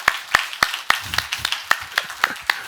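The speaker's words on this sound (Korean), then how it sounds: "모두가 박수 치고 감사하고 박수 한번 해요." A church congregation claps in steady unison at an even, brisk pace, about ten sharp claps with a faint murmur of voices partway through.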